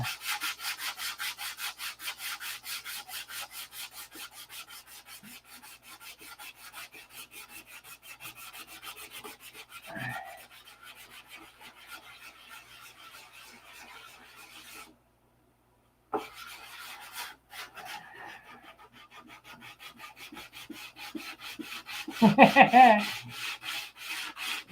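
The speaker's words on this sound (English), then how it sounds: "There's so much sanding to do." Rhythmic back-and-forth rubbing of sandpaper on a wooden P-47 model, quiet and close, with a brief pause midway and a few knocks of handling.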